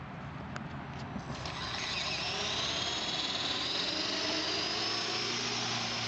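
Walkera Lama 400 RC helicopter (EC-135 style) with a brushless motor system spinning up, a steady whirring mechanical drone that rises and settles into a continuous high-pitched hum, fairly close and with no voices.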